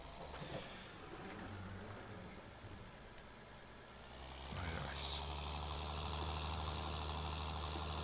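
A worn tractor engine in Farming Simulator 19 drones steadily at low pitch while working a small field, its rumble rising and growing louder about halfway through, then holding a constant, near idle-like hum.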